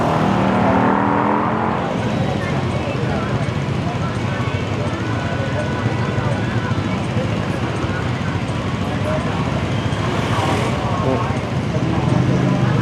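Busy town street traffic at a small Thursday market, heard from a bike, with car engines, passing vehicles and steady roadway rumble throughout, and people talking nearby over the noise.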